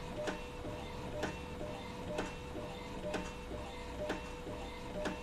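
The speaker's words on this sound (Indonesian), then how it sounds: "nah ini lagi proses mau ngeprint" An Epson L15160 inkjet printer working, with a steady mechanical hum and regular sharp ticks about once a second from the moving print head, fairly close and without speech.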